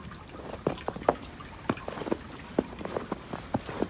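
Water drips at a Japanese shrine hand-washing basin on a snowy day, with irregular, distinct plinks falling every fraction of a second over a quiet background.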